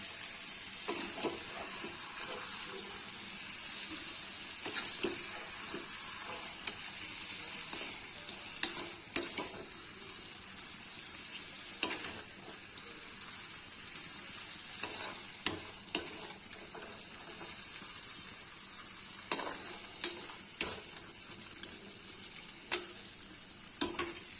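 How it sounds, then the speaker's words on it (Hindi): Mutton liver fries in a pan for a spicy Kashmiri-style dish, a soft steady sizzle broken by many sharp clicks and knocks of a spatula against the pan. "कलेजी फ्राई हो गई, इसको निकाल देंगे इसमें"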